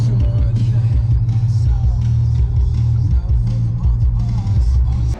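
Volkswagen R32 with a VR6 engine and exhaust while driving, a steady, loud low rumble with slight rises in revs filling the whole stretch, with faint talk over it.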